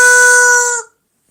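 A squeeze doorbell toy made to sound like a chicken gives one loud, near, strained crowing squawk that holds steady for almost a second, then cuts off into silence.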